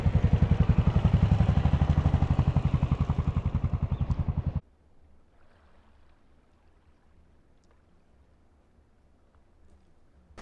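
A loud, rapidly pulsing motorcycle engine idles for about four and a half seconds, then cuts off abruptly, leaving faint background rumble.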